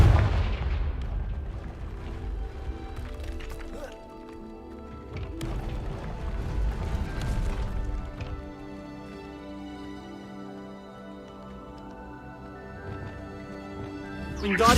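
Booming Confringo fire spell blasts in the video game Hogwarts Legacy, several deep impacts spaced a few seconds apart over a low rumbling game soundscape with lingering tonal effects.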